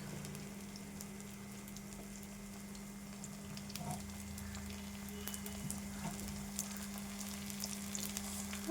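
Chicken pieces fry in a pan of bubbling oil, a quiet, steady crackling sizzle with a low hum underneath and occasional small pops, no voices.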